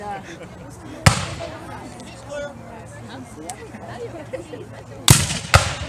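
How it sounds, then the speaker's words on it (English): Civil War cannon fired for reveille at Sully Plantation: two loud, sharp booms about four seconds apart, a second close report right after the later one, over outdoor background chatter. "That's reveille"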